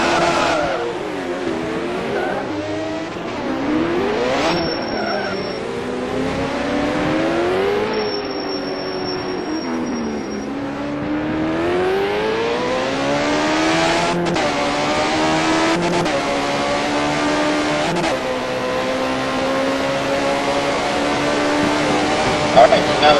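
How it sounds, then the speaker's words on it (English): 1979-era F1 race cars at Monaco in the rFactor racing game, one spinning while others pass, with high, rising and falling engine whines and a changing pitch throughout under a race commentator's voice. "Dale Farmer gets a little bit loose there, and here comes Mike DuBois"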